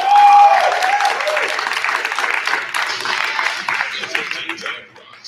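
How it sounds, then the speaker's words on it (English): A crowd applauds girls at a hockey event, busy, bright clapping that starts loud and tapers off, with voices mixed in beneath it. "Let's give these girls a big round of applause."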